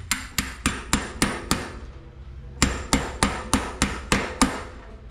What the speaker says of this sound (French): L'axe va passer à travers la douille.